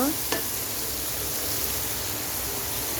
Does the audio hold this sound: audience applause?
no